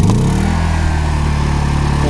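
A Honda EU2000i inverter generator catches after a pull-cord tug and settles into a steady, loud, close running drone with a brief clattery start.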